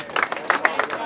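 A few people clapping nearby in a quick, uneven burst of separate claps, with voices murmuring underneath.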